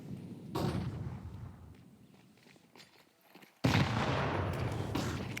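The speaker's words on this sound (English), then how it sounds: "Good high damage nade" A grenade goes off during a Counter-Strike match at the StarLadder Budapest Major 2025, a sudden sharp blast midway that follows quieter shuffling and distant gunfire and leaves a rumbling tail.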